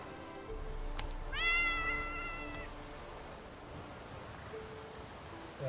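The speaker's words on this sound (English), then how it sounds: "That's my kitty." A pet cat gives a single clear, drawn-out meow, fairly close and moderately loud, against a faint background hum with no talking.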